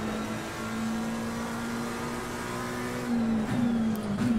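McLaren race car engine in Assetto Corsa Competizione, a steady high drone holding pitch with a slight rise in revs near the end, loud and close with no talk.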